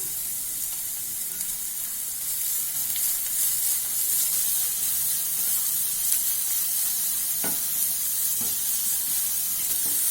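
Vegetables sauté with powdered salt in a pan, giving a soft steady sizzle with faint stirring scrapes now and then, close and fairly quiet.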